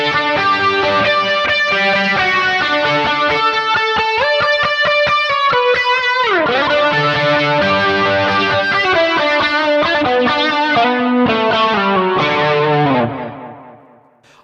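An electric guitar runs through a Kemper with a tube screamer and a pitch chorus effect, playing loud, slightly driven, shimmering melodic notes continuously before fading out at the end.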